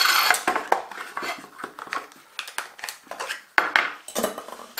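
A compact MSR Pocket Rocket 2 camping stove and its gas canister are handled and shifted inside their box. Close metallic clinks and knocks arrive in irregular bursts with short gaps between them, and no voices are heard.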